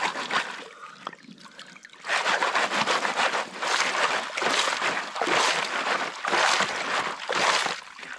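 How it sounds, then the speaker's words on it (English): A gold-bearing creek flows steadily outdoors, a broadband rushing and trickling of water that swells in several surges, fairly close and alone with no talk. "Beautiful day on the creek."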